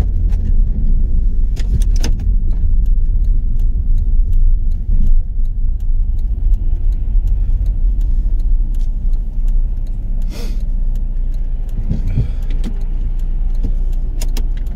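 Autobahn traffic starting to move again after a tipped-over truck blocked the road, heard as a steady, loud low road-and-engine rumble from close by, with a few brief clicks and rattles on top and no talking.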